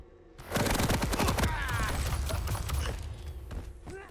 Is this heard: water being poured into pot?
no